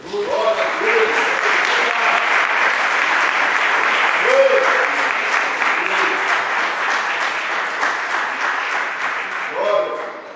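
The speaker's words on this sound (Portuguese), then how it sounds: "As palmas vão ao Senhor Jesus." Church congregation applauding during a service, sustained dense clapping for about ten seconds with a few voices briefly heard over it.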